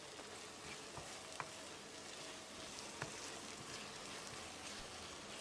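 Fish curry made with red snapper simmers in a pan over medium heat, giving a steady, soft bubbling hiss with a few faint clicks and pops, fairly quiet and continuous with no voices.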